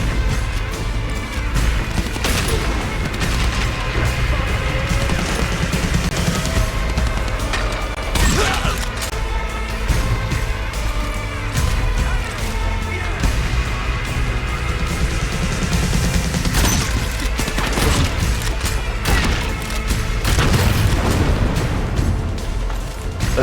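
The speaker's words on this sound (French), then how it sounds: "Il a survécu une explosion à côté de lui." Dense, loud video game combat from Dying Light the Beast: continuous rattling gunfire with repeated heavy booms and explosive bursts, crashes layered throughout with no pauses.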